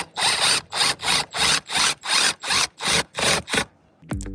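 A ratchet screwdriver drives screws into a fan's trim ring, giving eight evenly spaced bursts of close, crisp clicking, each about a third of a second long, then a short pause.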